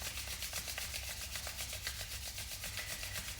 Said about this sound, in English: rubbing them vigorously to generate some heat through the friction